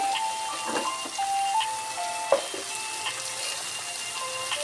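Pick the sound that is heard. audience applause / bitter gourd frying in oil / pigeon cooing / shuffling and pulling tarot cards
bitter gourd frying in oil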